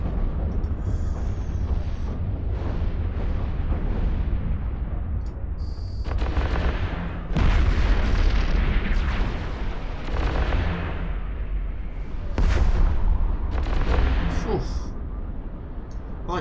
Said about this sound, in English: I like how it exploded and then imploded.